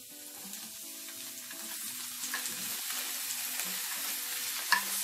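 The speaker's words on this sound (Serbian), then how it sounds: "sad možemo da pržimo. Znači stavljamo polako da se prži." Sticks of tofu and pepper fry in a pan with a soft, steady sizzle that builds slightly, punctuated by occasional stirring taps and a sharp clink near the end.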